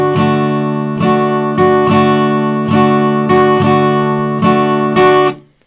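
Guitar strumming swing eighth notes: loud, close chords struck in a lilting long-short rhythm with about ten attacks, then cut off into silence.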